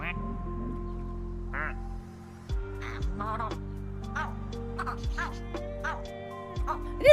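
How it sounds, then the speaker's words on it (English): Parrot duck in the video game Kulebra, giving scattered squawky, caw-like and quacking calls over sustained synth tones of game music, with a voice heard faintly at times. "I didn't realize the parrot duck actually did parrot noises."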